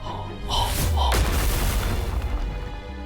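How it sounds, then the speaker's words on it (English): A blast of light vaporizes a crystal wall in the Nikke game with a loud booming explosion, a sharp crash at about one second followed by a rolling rumble that fades out, after brief tonal game sounds. "There is a cacophonous explosion as the wall is entirely vaporized out of existence."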